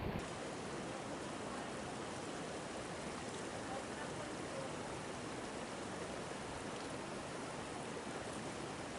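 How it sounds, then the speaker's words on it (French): A small mountain stream flows steadily near a lake in the Carlit massif, a dense, continuous broadband rush of water that stays close and even throughout with no voices. "c'est là où va se jeter ce petit ruisseau."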